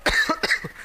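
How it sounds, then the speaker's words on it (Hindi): A person coughs several times in quick succession, short rough bursts close to the microphone in under a second. "अब कहेंगे आप भी खांस रहे हैं"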